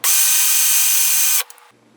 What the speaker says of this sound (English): insert it in our drill chuck, and then straighten it out by clamping the other end with pliers and letting it run for about 5 seconds